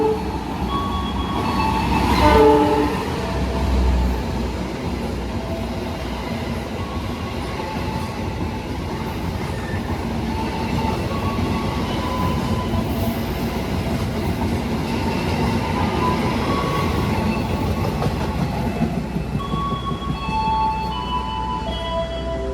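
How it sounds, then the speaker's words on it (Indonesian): The Gaya Baru Malam Selatan passenger train runs straight through Cirebon Prujakan station at high speed, a loud, continuous rumble with steady clickety-clack of wheels on rail joints lasting over twenty seconds. "Ini ada kereta api Gaya Baru Malam Selatan yang bakal melintas langsung."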